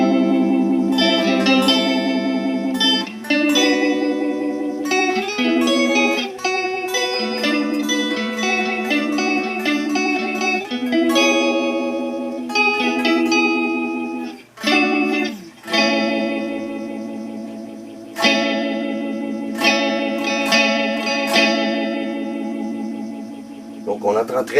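A phaser modulation effect sweeps over a sustained, chorded instrument passage, with a loud, continuous sound and a few brief dips and restarts.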